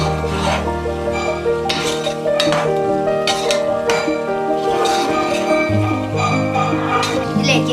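Cauliflower and potato being stirred together in a pan for a roast masala, giving a steady run of scraping and light clinks close up, held under a continuous tonal background.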